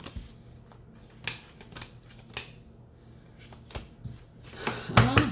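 Tarot cards being shuffled by hand, with a series of crisp riffling and snapping bursts spaced through the clip and a louder flurry at the end, close up and with no talking.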